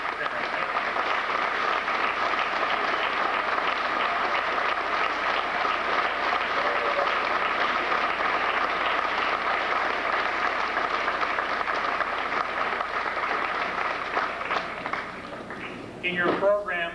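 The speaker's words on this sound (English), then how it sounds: "Would the parents please stand and receive a well-deserved round of applause?" Long, steady applause for parents at a 2004 graduation ceremony, a broad wash of clapping from a large audience that tapers near the end as a voice begins speaking.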